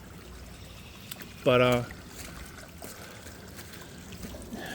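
Water trickles through a woodland stream swollen by heavy rain, a soft steady wash heard faintly throughout, briefly interrupted by a single spoken word.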